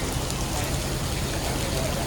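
Steady rain falling outdoors, a dense, even patter of drops with a continuous wash of hiss throughout, moderately loud and without pauses.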